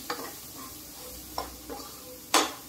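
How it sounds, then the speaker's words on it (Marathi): Biryani masala sautéing in a pan over a low flame, a quiet steady sizzle punctuated by a few separate spatula scrapes and taps against the pan, the last one the loudest. "आता मी जी फ्लेम आहे ना ती कमी करते आणि हा मसाला व्यवस्थित परतून घेते।"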